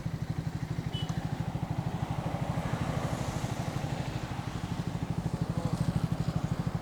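A Triumph Thruxton 400 motorcycle engine turns over at a steady, low idle thump with a rapid even pulse as it sits stopped, heard close and alone without talk.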